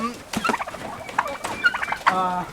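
Turkeys on a turkey farm in Nakhon Phanom, Thailand, gobble in several quick, overlapping bursts close by, a rapid rattling chorus of calls with no talking.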